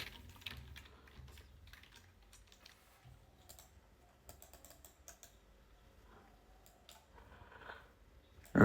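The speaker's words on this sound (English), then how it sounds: "Need to type my password" Password being typed on an iPhone's touchscreen keyboard, a quiet run of light irregular taps and clicks with one sharper bump at the end.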